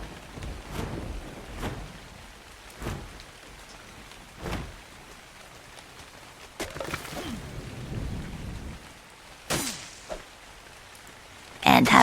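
Rain falls steadily in the survival video game Ark, with a string of sharp thunder cracks and rumbles breaking through at irregular intervals over the downpour.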